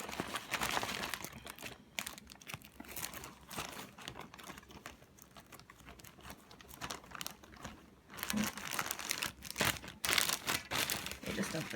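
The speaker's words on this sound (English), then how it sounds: "You'll see I have my plastic bag here." A plastic storage bag is crinkled and rustled close by as it is handled one-handed in a quiet room, with bursts of crackling that swell and fade and a brief pause in the middle.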